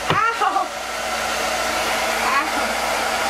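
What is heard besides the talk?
blow dryer drying a lace front wig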